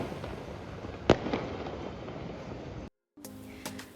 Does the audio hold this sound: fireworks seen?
yes